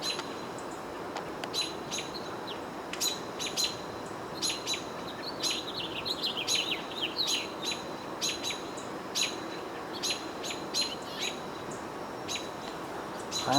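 Robins and a house finch or two call from nearby, a steady run of bright chirps and tweets at irregular intervals over a low outdoor rumble, with no voices.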